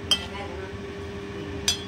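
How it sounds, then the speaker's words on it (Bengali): A spoon clinks against a pot while koi fish curry with cauliflower and potato is stirred: two brief, close metallic clinks, about a second and a half apart, over a low steady hum. "একটু নাড়াচাড়া করে নিচ্ছি।"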